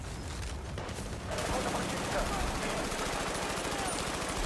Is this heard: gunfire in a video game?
yes